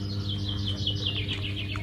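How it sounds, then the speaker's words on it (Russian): Small birds chirp in a pine forest, a quick run of repeated high notes over a low steady hum, fairly faint and with no talking. "Птички чирикают."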